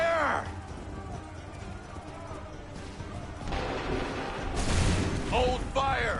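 Cannon and musket volleys booming in Assassin's Creed 3 battlefield gameplay, a heavy blast and rumbling crashes under shouted orders from soldiers.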